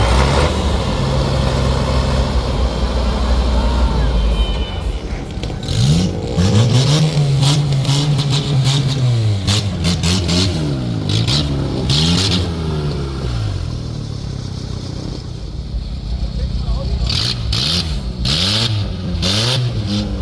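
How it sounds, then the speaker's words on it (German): A Tatra truck engine fitted into a custom car chassis at the Wacken Open Air festival revs loudly and repeatedly, deep rumbling swells rising and falling with no talk over it. "LKW-Motor aus einem Tatra in dieses Chassis eingepasst."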